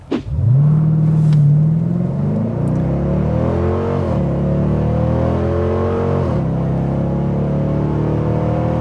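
A Dodge Durango R/T accelerates hard at full throttle, its engine note climbing in loud rising sweeps broken by two gear changes, each followed by a fresh pull upward.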